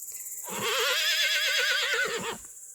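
A horse outdoors in summer lets out one loud, close whinny lasting nearly two seconds, rising and then wavering down, with faint background noise before and after.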